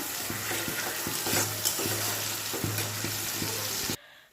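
Meat cooking in a frying pan with onion and tomato, giving a steady close sizzle with faint repeated stirring or scraping through most of the stretch, then cutting off abruptly near the end.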